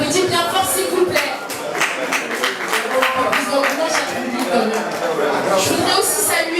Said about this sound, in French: On les applaudit bien fort s'il vous plaît.